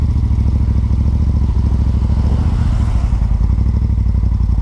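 A slightly modified Moto Guzzi twin motorcycle engine idling close by, a loud, steady, smooth low rumble throughout.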